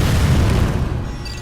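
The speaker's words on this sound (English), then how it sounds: "Samus, blast the eruption port to get the magma flowing." Deep, heavy boom as an eruption port is blasted open to release magma in Metroid: Other M, a single loud low rumble that swells and then slowly fades.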